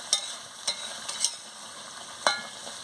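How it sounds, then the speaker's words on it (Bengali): Chicken curry with potatoes and spices is sautéed in a pan, a soft hiss under a few crisp spatula scrapes and taps, one near the start and a sharper clack toward the end. "দিয়ে ভালো করে কষিয়ে নিচ্ছি কষাতে কষাতে জল বেরিয়ে গেছে"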